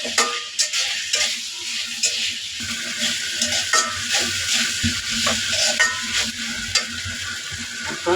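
Green plantains coated in turmeric are stirred into a frying spice paste, giving a steady close sizzle with rhythmic scraping and clinking from the stirring spoon and no voices.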